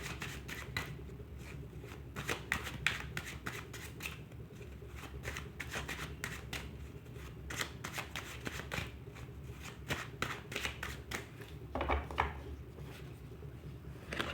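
Tarot cards shuffle continuously and close by, a rapid run of crisp riffling and flicking clicks that keeps up throughout with no speech.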